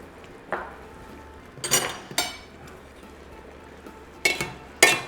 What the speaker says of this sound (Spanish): Mezclamos bien, dejamos que se macere ahí un poquitín